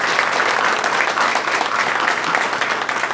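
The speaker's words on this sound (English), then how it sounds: "how about a round of applause for our candidates today?" A township commissioner candidate forum audience claps steadily for the candidates, a dense, continuous round of applause filling the room at close range with no voices.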